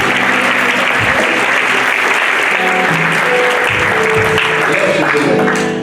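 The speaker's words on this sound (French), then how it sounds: "Acclamez pour Jésus." A church congregation applauds for Jesus during a service, with loud, sustained clapping from a large crowd throughout and a voice speaking over it.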